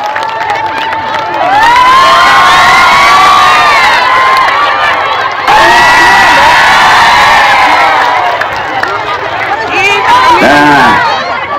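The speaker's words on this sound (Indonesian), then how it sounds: "Tepuk tangan." A large crowd at an Indonesian political campaign rally in Cilacap cheers, whoops and shouts loudly and continuously, with children's shouts and babble in a dense, close roar that briefly dips and then swells again.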